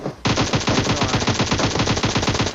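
A burst of rapid automatic gunfire from a PUBG Mobile match, about two and a half seconds of evenly spaced, loud shots fired without pause.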